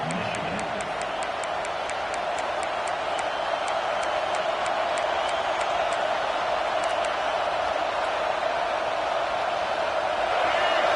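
Michigan vs Ohio State football stadium crowd, a steady loud roar of thousands of fans filling the air continuously, with a faint high whistle-like tone pulsing early on.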